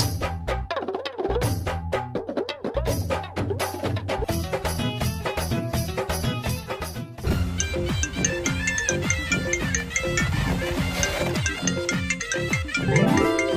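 A mobile phone ringtone plays as a steady, loud musical melody with repeated tones, continuing alone without voices for over thirteen seconds before the call is answered.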